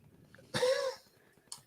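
A single sharp, breathy sneeze bursts out close by, followed by quiet breathing and a faint short noise afterward.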